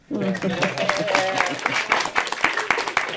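A small audience claps, a patter of hand claps running under people talking.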